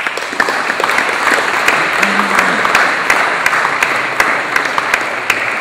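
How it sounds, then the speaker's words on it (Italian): Loud, dense applause from an audience at a classical guitar award ceremony honouring a prize recipient, sustained evenly throughout with scattered distinct claps poking through. "Un applauso."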